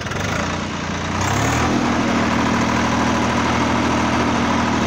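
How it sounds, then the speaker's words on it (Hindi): A Swaraj 855 FE tractor pulling a 13-tine cultivator runs its diesel engine near 1600 RPM, a loud, close, steady throbbing drone that rises in pitch and firmness after the first second. "स्वराज का 855 FE और सेम 13 टांग का कल्टीवेटर है पीछे, और आई के फर्स्ट में 1600 RPM कर लो पहले"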